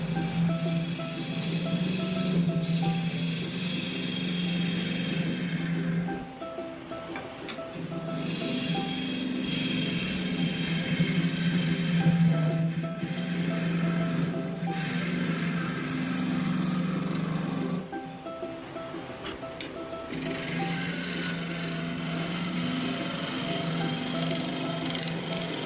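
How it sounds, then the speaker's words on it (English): A wood lathe fitted with a coring jig hollows out the inside of a crotch-wood vase, giving a steady, close machine drone with rough cutting noise that dips briefly twice before resuming. "Coring jig on our machine, we will start the hollowing process."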